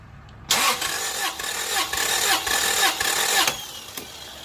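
A 1996 Toyota Corolla engine cranks over during a compression test, giving a close, loud run of evenly spaced starter pulses for about three seconds before stopping, with no talking.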